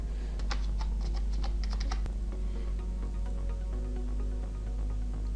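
Typing on a computer keyboard while entering text in Photoshop, a run of quick key clicks clustered early and thinning out later over a steady low background hum, with no voice.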